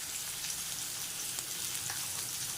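Onions sauté in a hot pan for potato masala, giving a steady, close, hissing sizzle with faint crackles throughout and no voices.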